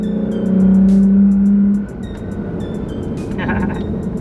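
Toyota Tacoma pickup engine with a Holley cold air intake revs up loudly into a rising roar, then drops to a lower idle rumble; someone talks over it near the end.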